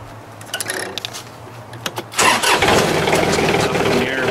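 A snow blower's small engine cranks and catches at about two seconds, then runs steadily and loudly near at hand, with a few knocks and handling noises before it fires.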